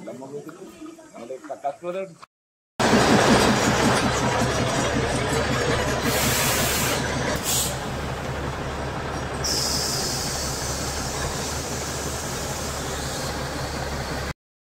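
The Matheran toy train pulls into Aman Lodge station with a loud, steady rumble and rattle that runs on close by after a voice speaks briefly at the start.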